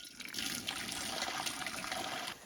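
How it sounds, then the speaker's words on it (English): Hot water from an off-grid heater on an Alaska homestead splashes steadily into a cooking pot, a close, continuous rushing pour with no voices. "So let me get my pot full of hot water"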